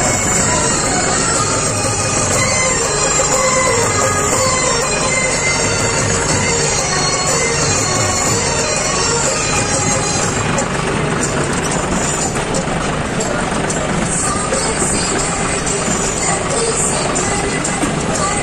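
A tractor engine runs steadily and loudly throughout the ride, a dense unbroken drone with rough road noise mixed in.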